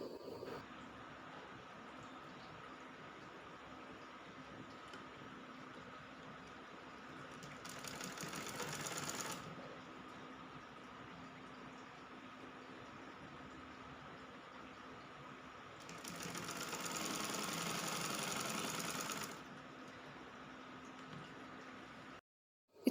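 A sewing machine stitching the seam of a printed-fabric kurti runs in two steady whirring bursts of a few seconds each over a quiet background hum.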